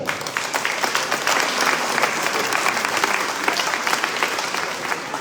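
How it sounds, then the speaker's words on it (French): At a town hall reception in Le Robert for a champion women's sports team, an audience breaks into strong, continuous applause, a dense crackle of many hands that holds throughout. "je voudrais vraiment qu'on l'applaudisse très fort."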